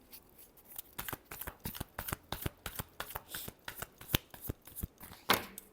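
Tarot cards are shuffled by hand, a quick run of crisp, close flicks and slaps in an irregular rhythm, ending with one louder riffle.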